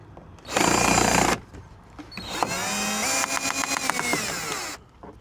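A power drill whirs in short bursts while backing screws out of a mouldy van headliner, with one long run, a pause, then a rising whine that stutters into rapid ratcheting pulses, close and loud with no talk.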